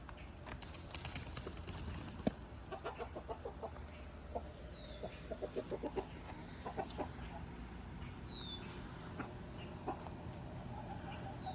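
Chickens cluck softly nearby in short irregular bursts, with scattered pecking taps and a couple of faint higher calls, fairly quiet overall and no talk.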